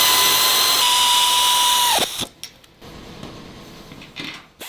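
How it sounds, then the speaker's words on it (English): A power drill whirs loudly at a steady pitch while fastening the upper and lower plates of a kayak mold, then winds down and stops, followed by a few clicks and faint mechanical clatter. "These tools are used to tightly fasten the upper and lower plates of the mold together."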